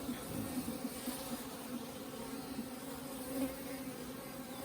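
Honeybees and drones in an open beehive without a queen excluder make a dense, steady buzzing hum that stays close and constant throughout, with no voices.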